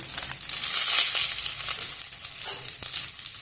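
Cumin, green chilies and curry leaves sizzle steadily in hot oil while carrot rice is being prepared, a dense, continuous frying hiss that stays close and even throughout.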